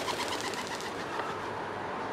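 A pigeon coos softly during a St. Piran's Day street parade in Penzance, the calls blending into a steady wash of outdoor crowd and street noise throughout.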